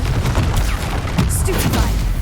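A Confringo blasting spell cast in the Hogwarts Legacy video game: a dense, continuous crackle of impacts and bursts, loud and close, with game sound effects layered throughout and no clear pauses.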